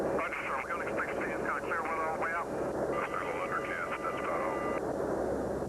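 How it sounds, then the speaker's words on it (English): A C-130 Storm Tracker hurricane hunter plane based in Biloxi on a reconnaissance training flight gives off a steady, unbroken engine drone throughout, with voices talking over it. "One of the C-130 Storm Tracker planes based in Biloxi makes a reconnaissance training flight."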